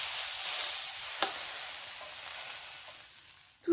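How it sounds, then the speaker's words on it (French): Peppers and onion sizzle steadily in a frying pan with a soft broadband hiss, one brief scrape of stirring near the middle and a louder clatter right at the end. "Et on remue pendant 1 minute."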